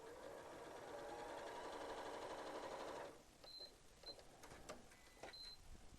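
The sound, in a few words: sewing machine stitching quilt block seams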